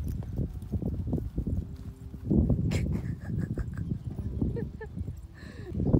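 Hooves clop steadily on hard ground as ponies walk nearby at a riding stable, the uneven clip-clop rhythm mixed with shuffling and a few faint background sounds.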